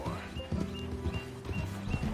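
Horse hooves clip-clop steadily in Red Dead Redemption 2, a close, even trotting rhythm lasting about two seconds with a faint tonal hum behind it.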